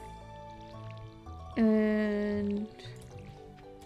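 A bright, tonal watering sound from a watering can on crops in Stardew Valley 1.5, a single sustained burst lasting about a second amid soft game music, with a brief spoken word just before.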